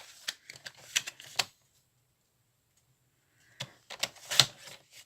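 Crisp snips of scissors cutting leftover paper scraps, a quick cluster of close cuts, a pause of silence, then another burst of sharp snipping with rustling paper.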